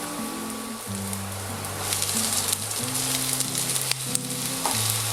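Chopped vegetables and garlic sweating in a pan for a chorizo and vegetable pasta dish, a steady soft sizzle running throughout with faint clinks and stirring, a low pitched tone sounding underneath.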